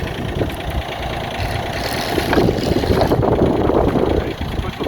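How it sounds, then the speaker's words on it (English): Excavator engine running slowly at low throttle while a steel track is guided back onto its wheels, a steady rumbling idle that swells slightly midway. "I'm going to run it real slow. And we're going to guide it back onto that track."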